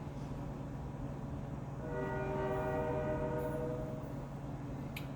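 A passing train sounds its horn, a steady multi-tone blast rising out of constant rumbling background noise for a few seconds before fading slightly, heard from a distance with no talking.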